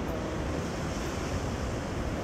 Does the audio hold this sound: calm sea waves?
yes